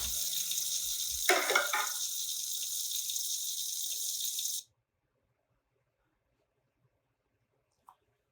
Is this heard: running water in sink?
yes